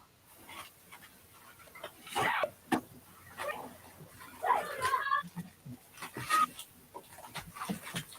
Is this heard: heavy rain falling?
no